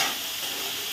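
Food frying in a pan at home, a brief steady hiss of sizzling oil, close and even, with no voices.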